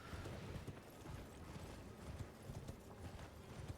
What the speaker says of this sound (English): Hear coconuts whenever the horse runs.